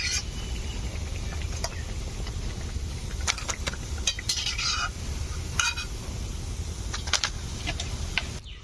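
Onion fritters (peyaji) frying in oil over medium heat: a steady, soft bubbling hiss beneath scattered metallic clinks and scrapes of a utensil against the pan, with no voices.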